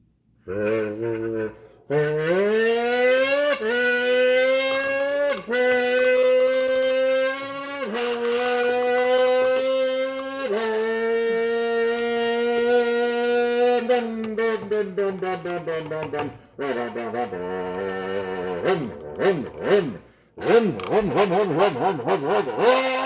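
A voice imitates a revving engine using an old Coke can, rising and falling in pitch through several long vroom sounds, buzzing and rattling like a motor accelerating.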